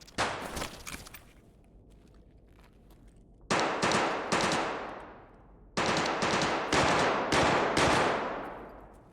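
Gunfire in the video game Escape from Tarkov: several loud bursts of automatic fire, each a rapid string of sharp shots with ringing decay, separated by short quiet gaps.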